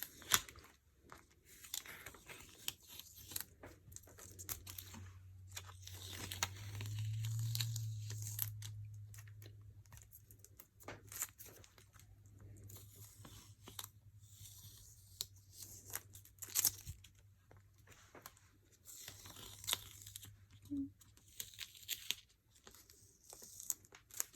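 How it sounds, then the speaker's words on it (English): Washi tape being peeled up from a bible journaling page, heard as close, faint crinkly tearing and crackling in irregular bursts over a low background hum. "now we will peel up this washi"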